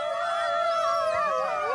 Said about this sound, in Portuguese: As sessões de uivos incluem tons diferentes e ocorrem sobretudo durante o crepúsculo